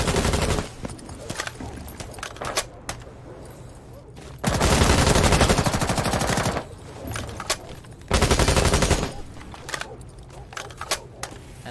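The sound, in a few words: gunfire in a tactical shooter video game, shooting out wall parts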